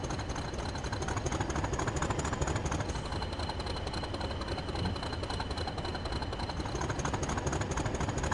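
A diesel locomotive engine in the Train Sim World 5 game running after start-up, a steady low rumbling drone with rapid mechanical chatter, even and moderately quiet throughout.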